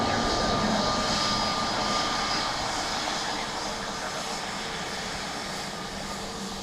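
Airliner arriving at Dublin Airport, a loud jet engine roar that stays steady and broad, then eases slightly as the aircraft passes, with a faint whine on top and no talk.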